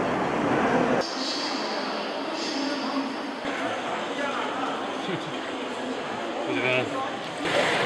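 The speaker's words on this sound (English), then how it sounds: "We're going to do the KTX train, which is a 350-kilometer bullet train" KTX high-speed bullet train travelling from Busan to Seoul, a steady broadband interior rumble and rail noise with shifting tones, heard close from inside the carriage with a voice speaking over it.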